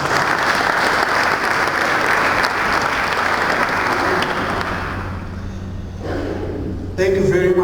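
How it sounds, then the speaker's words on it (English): Dense, loud applause from the audience at the Cape Town International Stamp Exhibition 2022 opening ceremony holds steady, then thins and fades, and a voice begins speaking at the end. "A round of applause again."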